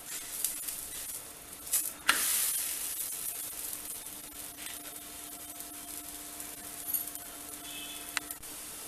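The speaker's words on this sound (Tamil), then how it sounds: "அடுத்த பக்கம் திருப்பி புடையில எண்ணெய் போட்டுக்குவோம்" Ragi paneer roti frying in oil on a hot pan, giving a steady close sizzle with a few sharper crackles and spits, and no talking.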